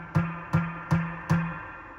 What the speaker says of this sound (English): it's much longer, and you can hear the drip